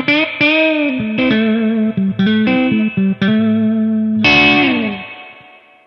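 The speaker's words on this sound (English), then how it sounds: "Now listen to the difference when we turn the control all the way up." Distorted electric guitar through an amplifier with the reverb turned all the way up, a riff of ringing chords and notes that washes into a long, spacious tail fading out at the end, close and loud.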